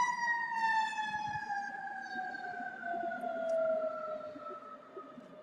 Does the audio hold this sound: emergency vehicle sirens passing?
yes